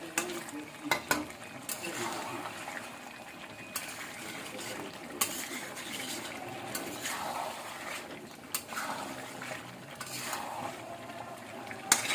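Chicken frying in a generous amount of oil in a pan, a continuous soft sizzle with occasional stirring and clinks of utensil against the pan.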